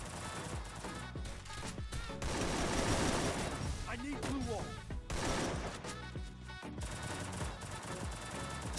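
Gunfire in a mobile battle-royale video game, likely Free Fire: rapid bursts of shots and explosive cracks over dense game audio and background music, with a voice talking through parts of it.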